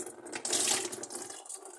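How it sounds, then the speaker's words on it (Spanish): Water gushes out of a kitchen sink drain pipe, a brief splashing burst that swells and then trails off into trickling. "¿No veis cómo sale el agua?"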